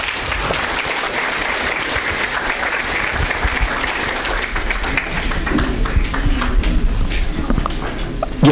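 An audience greets a lecturer at a conference with warm applause: dense, continuous clapping that swells slightly toward the end, with a few heavier claps close by.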